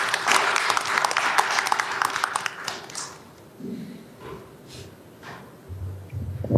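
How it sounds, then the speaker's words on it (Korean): An audience welcomes a dean to the stage at a Korean university engineering ceremony with a few seconds of brisk clapping that quickly thins out, followed by quiet shuffling and light handling sounds. "큰 박수로 맞이해 주시면 감사하겠습니다"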